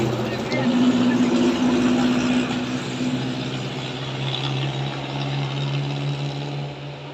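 A steady heavy bus engine drone with a rising low whine as it revs, close by, with a voice talking over it.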